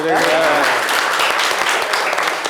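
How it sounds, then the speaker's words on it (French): An audience on a French live show set applauds, sustained steady clapping with some voices mixed in from the start. "Applaudissez pour lui."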